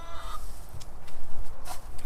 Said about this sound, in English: Even these ornery old roosters.